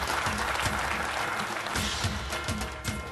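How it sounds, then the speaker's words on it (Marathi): Continuous crowd applause for a prize winner at a Ganpati competition prize ceremony, dense and steady across the whole stretch over a low rumbling background. "मला वाटतं काकांसाठी स्पेशल टाळ्या व्हायला हव्यात"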